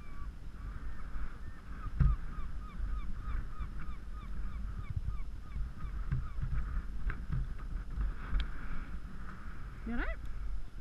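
Geese honk repeatedly in the distance on a beach over a steady outdoor wash of wind or surf, with a louder, closer honk near the end.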